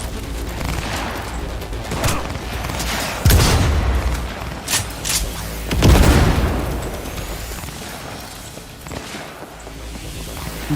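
Gunfire and booming impacts in the video game Cyberpunk 2077, with a couple of heavy blasts standing out among scattered shots over a steady rumbling game background, no talking.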